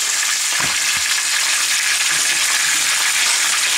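Peppers and onions fry in leftover pork fajita marinade in a pan, giving a loud, steady sizzle with a couple of soft clunks near the start.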